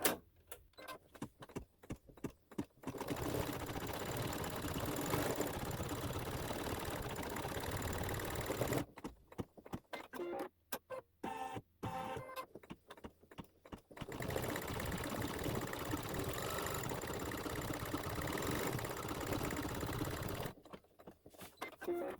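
A sewing machine stitches a satin stitch on a quilt block, running in steady bursts of rapid needle chatter with short pauses and stops between runs.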